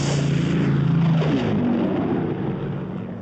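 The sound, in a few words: Japanese patrol aircraft flying over island, from a 1957 film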